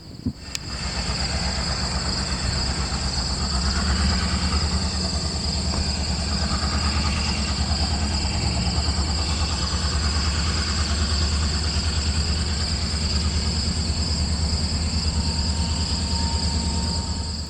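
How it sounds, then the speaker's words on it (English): A freight train on the Iowa Interstate shoves back slowly into a small switching yard, a loud, steady rumble of rolling cars and engine drone with faint wheel squeal, continuous throughout. "The train started to shove back into a small yard to do some switching"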